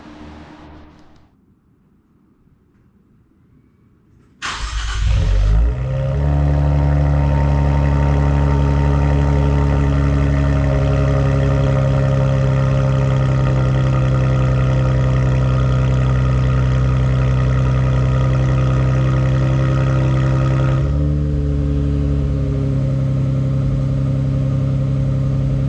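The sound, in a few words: 2024 Nissan Z Nismo cold start with catback exhaust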